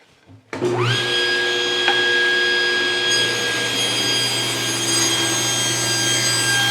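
A table saw fitted with a rip blade spins up with a rising whine, then holds a loud, steady scream through a rip cut in wood, alone and close.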